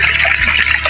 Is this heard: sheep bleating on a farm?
no